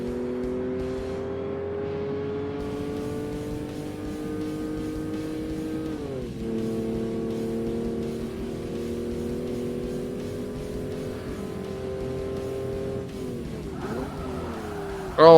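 Race cars roar continuously in Forza Motorsport on Xbox, with engine pitch rising and dipping through gear changes as cars close in fast from behind, loud and without talk.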